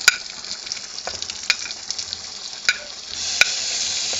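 Onions stirred into a hot frying pan for rougail saucisse make a soft steady sizzle, punctuated by a few sharp clicks of a utensil against the pan, with the frying hiss swelling near the end.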